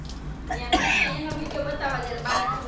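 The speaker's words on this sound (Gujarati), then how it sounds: "બા હમણાં ઉધરસ ખાય છે" A person talks and breaks into a short cough partway through, close to the microphone.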